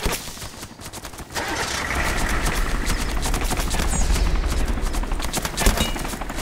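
Gunfire in Arma 2 DayZ rattles off in rapid bursts, a sharp opening shot followed by sustained automatic fire over a rumbling vehicle engine, fairly loud and close.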